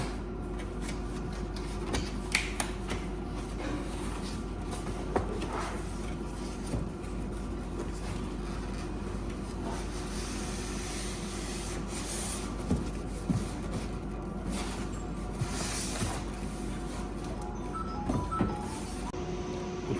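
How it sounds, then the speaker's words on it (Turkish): Unboxing a Karaca My Coffee Barista S20 espresso machine, with continuous cardboard and plastic rubbing, sliding and scraping sounds close by, quiet and without speech. "Hemen kutusundan çıkartalım."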